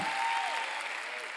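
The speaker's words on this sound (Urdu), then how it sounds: "آپ نے تالیاں بجائی، اچھا ہے۔" An audience claps at a sermon-style talk, dense steady applause that holds for a moment and fades slightly, heard from within the room.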